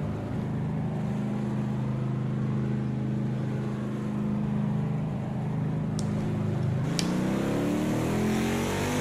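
NASCAR race car engines at the Daytona 500: a sustained, droning engine roar at steady pitch that then climbs as revs rise, with brief sharp peaks near the end, loud and continuous without speech.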